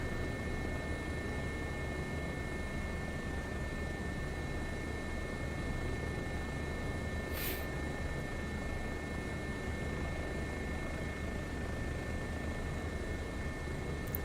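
Steady helicopter engine drone from a video game, modeled on Roman Atwood's real helicopter, a constant whine and rotor hum that holds at even loudness throughout with a brief hiss midway and no talking.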